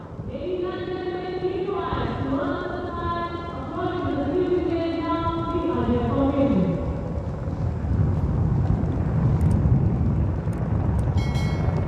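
Indian Air Force helicopters of 137 Helicopter Squadron fly over Kartavya Path during the Republic Day parade, giving a loud, sustained engine and rotor drone with a tonal whine that rolls into a broad, rumbling roar.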